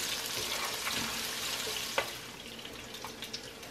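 Onion leek frying in cooking oil, a steady close sizzle with crackling pops and one sharp spit near the middle, no voices.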